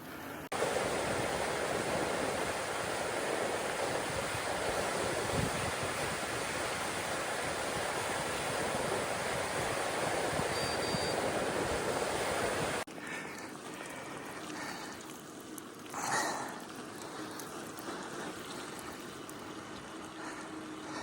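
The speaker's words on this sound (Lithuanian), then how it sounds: "O, kaip lyja." Heavy rain pours down during a cycling trip through the far north near the Norway–Finland border, a dense, steady hiss that fills the first stretch and then drops to a softer, muffled patter.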